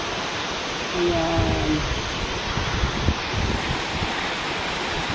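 River water rushing steadily over a concrete barrier across the stream, a broad continuous wash up close, with a brief spoken word over it.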